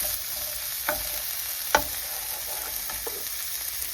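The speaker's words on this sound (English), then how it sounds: "So obviously you don't want to see carrots cooking." Carrots fry in a pan on a four-ring caravan stove, giving a steady close sizzle with a few soft clinks and scrapes of stirring, and no talking.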